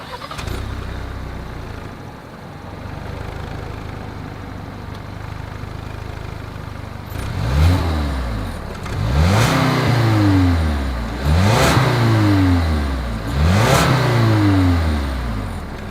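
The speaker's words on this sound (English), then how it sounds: "As always, here is that exhaust clip." A 2020 Lincoln Nautilus engine idles low, then revs up sharply several times in quick succession, each loud roar through the exhaust rising and falling.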